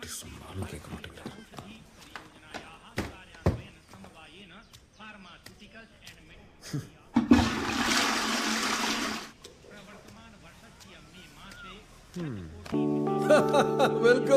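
A toilet flushes in a short rushing burst of water, loud and close, with people talking before it and music-like tonal sounds following.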